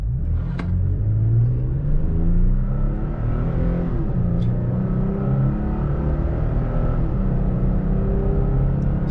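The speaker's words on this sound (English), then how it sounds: "0 to 60 time, no traction on. Letting go of the brake." Toyota Tacoma pickup launches from a standstill to 60 mph with traction control off, its engine a loud, continuous rumbling roar heard from inside, the revs climbing and dropping through gear changes.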